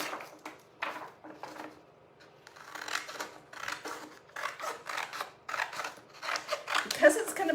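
Scissors snipping through sheet music paper, a run of quick crisp cuts in irregular bursts, close and clear, with a short pause partway through.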